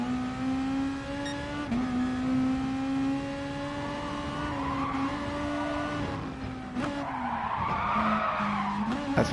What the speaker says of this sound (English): That's exactly what I was talking about, sliding off just like that.